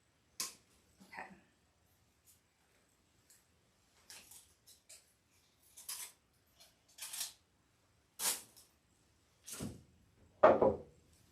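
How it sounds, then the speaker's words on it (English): Scissors snip decoration material for a Valentine's Day heart swag into little pieces, a series of sparse, separate crisp cuts and rustles spaced a second or so apart in a quiet room. "I'm just going to cut these into little pieces."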